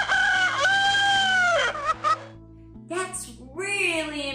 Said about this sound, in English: Rooster is going.